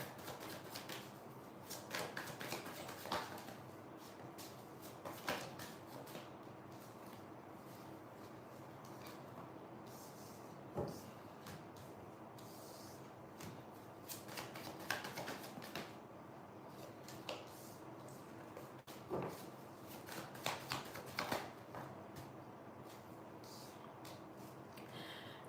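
Tarot cards being shuffled by hand make soft, irregular riffles and taps, quiet and close, recurring in clusters over a steady low background hiss.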